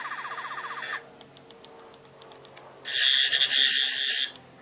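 Electronic sound effects from a Twelfth Doctor toy sonic screwdriver: a warbling, siren-like trill, a stretch of faint clicks, then a loud, bright buzzing whir that runs about two seconds before cutting off.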